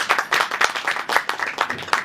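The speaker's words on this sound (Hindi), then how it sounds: "एक बार जरा और दीपू भाई के लिए जोरदार तालियां बजाइए" An audience at a film trailer launch claps in a dense, continuous burst of applause, close and lively, with no one speaking over it.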